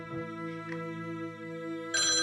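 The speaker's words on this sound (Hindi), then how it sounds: "आ गया फोन" An incoming call sets a telephone ringing: a steady electronic ringtone with sustained harmonic tones, close and prominent, turning brighter and louder near the end.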